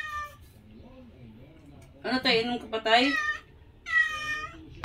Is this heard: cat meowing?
yes